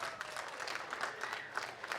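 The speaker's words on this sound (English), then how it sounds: "Let's give them a big round of applause as they step forward." An audience at an outdoor talent show during a town festival applauds performers on stage, a steady wash of clapping that sounds distant and moderately quiet, with no voices over it.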